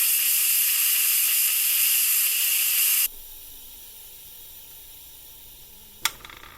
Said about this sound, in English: To quick release the pressure on this model, you just press the button down until it clicks,